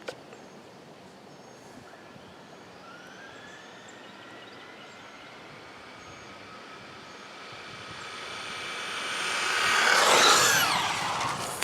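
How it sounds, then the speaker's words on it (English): A Traxxas Rustler 2WD XL-5 brushed RC car on a 2S lipo makes a top speed run, its thin motor whine starting faint and far off, then growing steadily louder until it peaks close by and cuts off. "Traxxas Rustler Top Speed Run 2S lipo."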